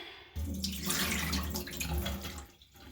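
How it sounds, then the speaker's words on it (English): A kitchen tap gushes steadily into a sink for a few seconds, close and continuous, then cuts off abruptly. "Turn on the water."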